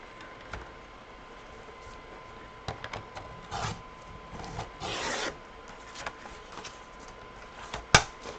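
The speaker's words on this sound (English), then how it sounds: "I'm just trimming these to the square shape." Sheets of paper being trimmed down to 8.5-inch squares, heard as quiet scattered cutting and rubbing strokes with a few brief louder swishes, close by and with nobody talking.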